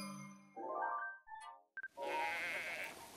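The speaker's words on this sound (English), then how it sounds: "I love you, little fluffy sheep." Sheep in Breath of the Wild bleat in a quavering call, followed by a couple of chiming game tones and then another drawn-out bleat, clear and fairly close with no talking over it.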